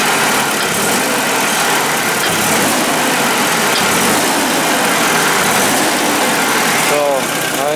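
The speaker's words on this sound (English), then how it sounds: "So what I'm gonna do is I'm gonna rev it up a bit" A Nissan forklift engine running with a slight miss, idling loud and close with an uneven, rough rumble and a hesitation as it is revved, while a person talks over it.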